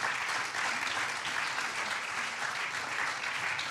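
Steady audience applause at a public democracy forum, an even wash of clapping from a seated crowd, moderately loud with no voices over it.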